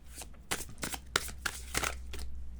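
Oracle cards are shuffled and drawn by hand, a series of close, crisp riffling flutters and slaps in uneven bursts, fairly quiet with no talk over them.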